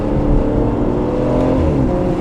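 Deep, sustained engine roar from the V12 of an Aston Martin Rapide S, loud and close from inside the car as it accelerates, a steady rumbling drone with rising tone and no speech.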